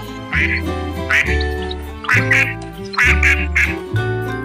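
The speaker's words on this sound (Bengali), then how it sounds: "হাঁস কেমন ডাকে বলো তো?" A duck quacks in a run of loud, nasal calls, about five bursts with short gaps, close up and alone.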